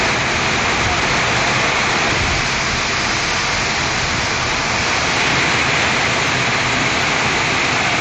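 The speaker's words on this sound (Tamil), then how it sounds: "காற்றுடன் பலத்த மழை பெய்தது" Heavy rain with wind at night in Chennai, a dense steady roar of downpour that stays loud and unbroken throughout, with no voices.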